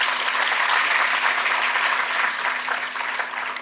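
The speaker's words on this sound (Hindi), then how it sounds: "टीबी की लड़ाई लड़ रहे इन वीरों के लिए जोरदार तालियां।" An audience applauds at a TB-Free India felicitation ceremony at Raj Bhavan, Dehradun, a dense, continuous round of clapping that holds steady throughout, with a faint constant hum underneath.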